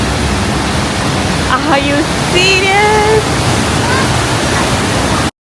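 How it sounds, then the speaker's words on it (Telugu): The Rhine Falls in Switzerland roar up close, a loud unbroken rush of crashing water that continues under a short excited spoken exclamation before cutting off abruptly. "మనం ఎంత దగ్గరికి వెళ్ళి చూస్తున్నామో చూడండి వాటర్ ఫాల్స్ని"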